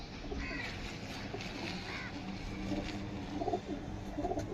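Pigeons kept by a Howrah fancier coo in soft repeated bursts, several calls close by amid a steady background murmur.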